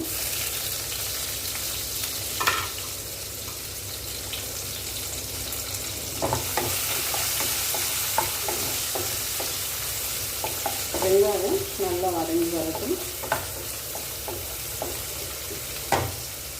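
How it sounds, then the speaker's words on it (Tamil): Chopped big onions and garlic fry in oil with fennel seeds in a pan for a thick parotta salna, a steady close sizzle broken by stirring scrapes and light utensil knocks. "வெங்காயம் வதங்கிட்டு இருக்கும்போது"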